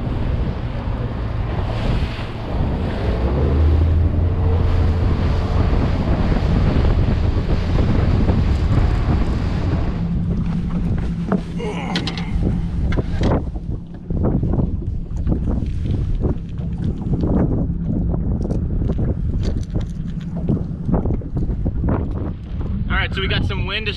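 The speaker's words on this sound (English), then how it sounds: "So we got some wind to start off the afternoon." Wind gusts across open water on a bass-fishing outing, roaring steadily against the microphone with lapping waves beneath, loud and close throughout.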